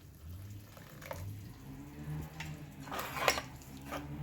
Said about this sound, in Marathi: मिक्सरच्या भांड्यामध्ये हे पाणी घालून घेतलं आहे